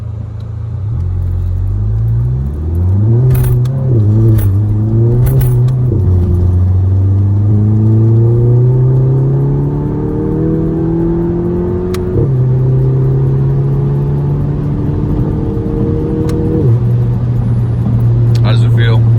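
A Volkswagen GTI launches hard with its front wheels spinning, a loud close engine drone that climbs and falls in pitch over several revs while people talk over it.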